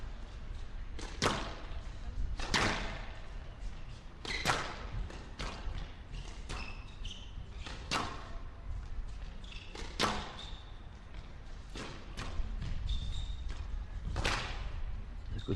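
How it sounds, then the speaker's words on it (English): Squash ball struck in a women's professional match at the 2007 Seoul Open final, with a series of sharp, echoing thwacks and bounces off the court walls at an irregular rally rhythm, fairly close and crisp over a steady indoor hall murmur. "A good drop shot."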